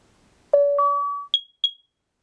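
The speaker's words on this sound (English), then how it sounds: "Testing smoke. Testing carbon monoxide." A Nest Protect smoke and carbon monoxide alarm during a test plays a short rising sequence of four clear electronic tones, the first two held longer and the last two brief and higher, loud in a quiet room.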